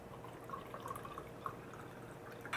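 Soju being poured into a glass, a faint soft trickle of liquid with small drips, quiet and close, ending with a brief louder splash.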